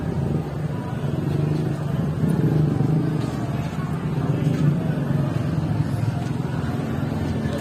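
Motorcycles of riders arriving at a charity ride event in Batangas, a steady, loud drone of passing and idling engines with a continuous low rumble throughout, with no clear gaps between vehicles.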